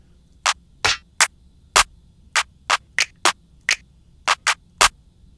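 Finger snap sample auditioned in Logic for a trap beat, heard as a dozen sharp, dry isolated snaps in an irregular rhythm over a faint low hum, with no talking.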